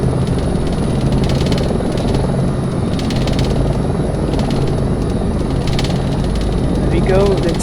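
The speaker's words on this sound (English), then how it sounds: "Let's hover taxi to the taxiway there." A helicopter in a desktop flight simulator hover taxis, its rotor and engine making a loud, steady drone with a rhythmic beating chop that holds unchanged throughout.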